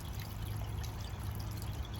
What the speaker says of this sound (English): Look at this beautiful, tranquil water feature I created for my patio.